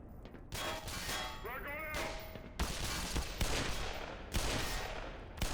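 Gunfire in the Black Mesa video game, loud bursts of rapid shots hammering in repeated volleys with metallic clangs, over a steady game background.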